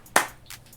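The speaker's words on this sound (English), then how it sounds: "I started talking over my clap" A single sharp hand clap rings out once, close and distinct, with a faint softer trailing sound afterward and no voices.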